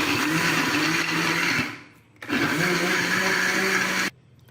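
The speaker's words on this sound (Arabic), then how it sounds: "المهم دابا انا غادي نطحن هاد العصير هذا" A kitchen blender whirs loudly while blending homemade strawberry juice, running steadily, cutting out briefly, then starting again before stopping, leaving a quiet room hum.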